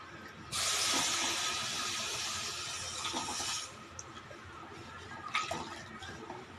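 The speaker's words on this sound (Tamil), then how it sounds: "3 கப் அளவு தண்ணி ஊற்றிக்கலாம்." Water is poured into a pan to make jaggery syrup for sweet kozhukattai, a loud, steady splashing rush lasting about three seconds before it cuts off, followed by faint drips and kitchen clatter.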